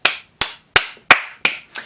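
One person claps hands six times at an even, unhurried pace, each sharp clap close and distinct with brief silence between.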